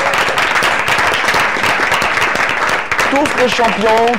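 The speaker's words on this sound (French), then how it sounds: "Applaudissez-vous d'abord." Candidates at a Caiman Biblique 2017 launch ceremony clap for themselves in sustained, dense applause from a crowd, with a voice speaking over the clapping near the end.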